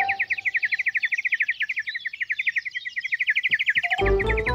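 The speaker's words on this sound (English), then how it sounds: "More quietly, please, bird." A cartoon bird chirps in a quick, bright series of repeated tweets. The chirps fade as a louder burst of other sound comes in at the end.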